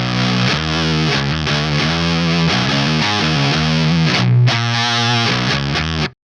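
Harsh, saturated electric guitar with extreme clipping distortion from an engaged clipping mode, sustained fuzzy chords played loud for several seconds before cutting off abruptly.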